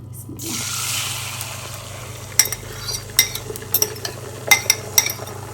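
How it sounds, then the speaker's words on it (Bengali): A spoon mixes grated coconut into egg in a bowl, giving a run of light, irregular clinks and taps against the bowl after a quiet start, close by over faint background hum. "ভালোভাবে আমি নারকেলটা মিক্স করে নিই ডিমের সাথে"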